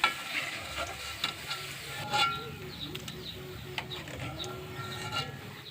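Ivy gourd fry being stirred in a hot pan, a close, continuous sizzle broken by repeated scraping and clattering strokes of the spatula, with no talking.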